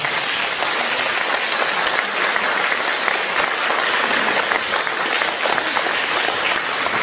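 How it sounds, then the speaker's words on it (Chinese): An audience at a spiritual lecture claps in a dense, sustained round of applause that stays loud and even throughout. "让我们再次用掌声感恩。"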